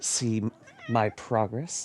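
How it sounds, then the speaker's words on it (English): A house cat meows a few times indoors, the short cries mixed in with someone speaking nearby. "That's my cat."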